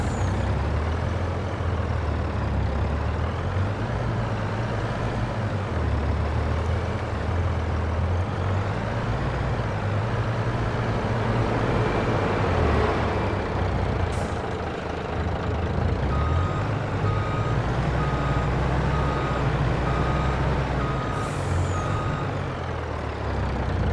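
Heavy trucks in Farming Simulator 22 back up and park, with a steady diesel engine drone, repeated reversing beeps and brief air-brake hisses, loud and close with no talk.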